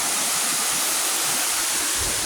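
Waterfall at Taman Eko Rimba Kanching in Rawang, its sixth tier heard as a loud, steady, broadband roar of rushing water that fills the whole moment without pause.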